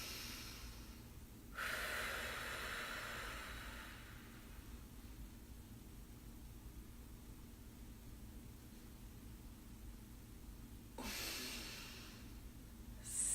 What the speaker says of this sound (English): I'm going to, again, take a deep breath.